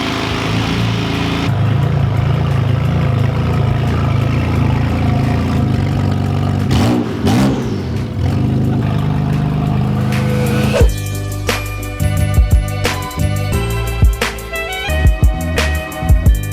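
A BMW E90 M3 engine idles loudly with a heavy vibrating drone for about ten seconds, then shifts to a rattling, clattering tone with sharp knocks as the car shakes.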